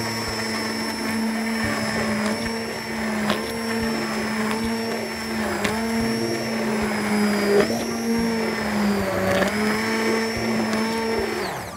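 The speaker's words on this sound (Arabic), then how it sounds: "الشوربه بتاعتنا هناخد الهاند بلندر دلوقتي ونبتدي" A hand blender purees potato and carrot soup in a pot with a loud, steady motor whine that dips and surges as it works through the liquid, close and continuous with no talking.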